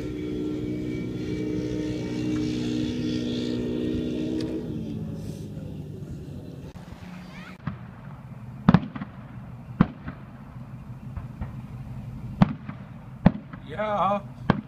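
Fireworks go off during a smelt fishing outing, a low droning hum giving way to several sharp, scattered bangs, some loud and close, with people talking now and then.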